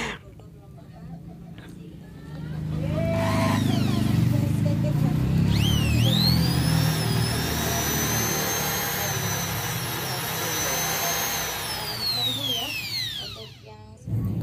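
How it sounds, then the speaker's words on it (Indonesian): Power Jiz100 electric drill motor spinning up with a rising whine, then holding a loud, steady high-pitched hum for several seconds before winding down, with a person talking underneath. "tadi kita sudah mendengarkan dari yang namanya suara dari mesinnya Dudru ya, tanpa helikarger, suaranya benar-benar halus ya"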